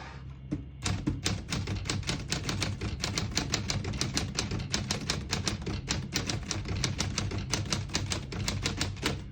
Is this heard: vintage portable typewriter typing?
yes